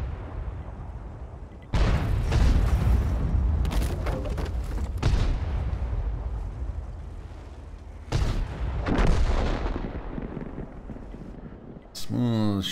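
Tank cannon fire in a World of Tanks–style video game from an M26 Pershing, heavy booming blasts at the start, then again near the eight-second mark, with rumbling engine noise between and a metallic reload sound at the end.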